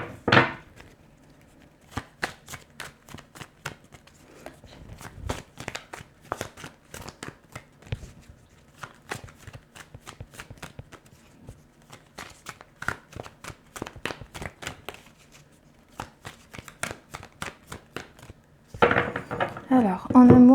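Tarot cards are shuffled for a love reading: a long run of crisp, close riffling clicks and soft slaps in uneven bursts, with a louder burst of handling and a voice near the end.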